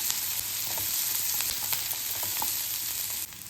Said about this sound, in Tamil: ஒரு மீடியம் சைஸ் வெங்காயம் இதை நல்லா வதங்கட்டும்.